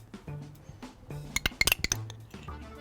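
A large spoon mixes a bean salad filling seasoned with sea salt and barbecue sauce in a bowl, giving soft scraping strokes and then a quick run of bright clinks against the bowl.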